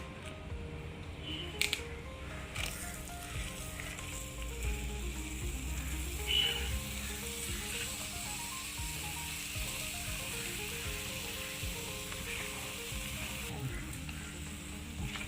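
Lemon pieces tossed into a hot pan and stirred for an Onam-style lemon curry pickle, giving a steady close sizzle and frying hiss with scraping stirs throughout, no talking.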